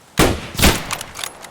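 A loud, close burst of gunfire in Escape From Tarkov: one sharp shot, a second heavy report about half a second later, then fainter trailing cracks and echoes.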